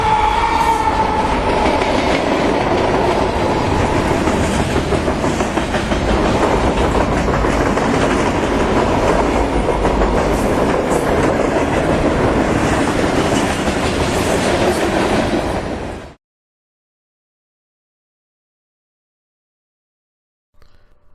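Freight train OICS passing on the Sayrehurst Secondary, a loud continuous rumble with rhythmic wheel clatter and rail noise lasting about sixteen seconds before cutting to silence.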